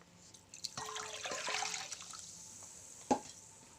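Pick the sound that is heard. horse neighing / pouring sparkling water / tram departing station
pouring sparkling water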